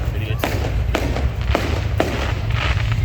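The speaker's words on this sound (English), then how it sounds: "The glories of illegal fireworks." Illegal fireworks go off near a parking lot on the Fourth of July, a rapid series of sharp pops and bangs over a constant low rumble, with people talking.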